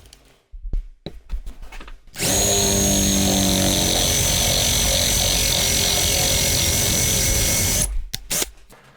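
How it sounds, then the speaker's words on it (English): A power drill with a large bit grinds steadily into a 5 oz silver bar for several seconds, a loud continuous whine, with brief clattering handling noises before and after. "we are definitely more into the bar with a bigger drill bit"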